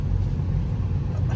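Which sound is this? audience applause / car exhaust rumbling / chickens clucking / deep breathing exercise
car exhaust rumbling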